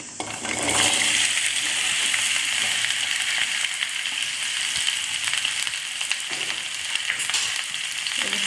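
Half a kilo of okra fries in hot oil in a pot, giving a loud, continuous close-up sizzle and crackle that holds steady throughout without any speech.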